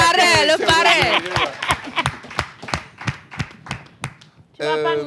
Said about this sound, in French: Commençons par applaudir le parrain.